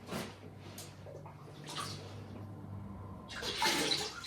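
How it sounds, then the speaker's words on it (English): Apple green ceramic glaze is poured over pottery with a soft, steady liquid splashing and trickling that swells near the end, close by and with no voices. "Now I'm going to try and pour with the green, which is the apple green,"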